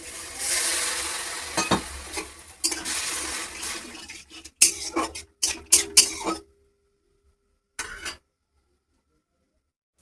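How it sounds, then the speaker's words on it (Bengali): Prawns sautéing in a pan with turmeric and a little water, a soft sizzle under intermittent scraping and stirring clatter, then near silence with a few final knocks. "চিংড়ি মাছটা সাঁতলিয়ে নিচ্ছি, একটু হলুদ দিয়ে আর সামান্য একটু জল দিয়ে"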